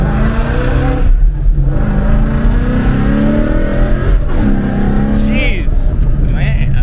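A manual Ford Mustang GT revs hard and shifts through gears, its engine note climbing, dropping at each quick shift and climbing again, loud and close inside the car.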